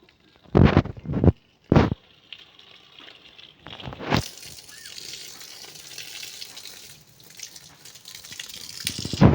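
Water runs from a pipe outdoors beside a turmeric plot, a steady gushing stream heard after a few short loud bursts at the start, continuing at moderate level with louder splashes near the end.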